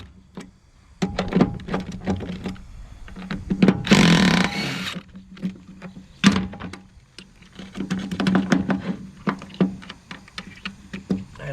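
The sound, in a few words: gently tapping a punch to remove a Wilwood brake caliper cup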